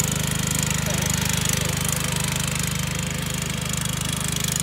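A lawn mower engine runs close and loud while mowing grass, a steady throbbing drone with a fast regular pulse and no talking.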